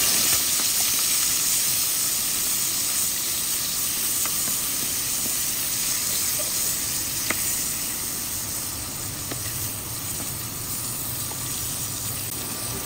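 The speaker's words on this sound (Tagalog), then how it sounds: "Ipiprito ko po muna." Dried, flaked daing na dalagang bukid fish fries in hot oil, a continuous close sizzle with soft crackles and occasional stirring ticks, no voices.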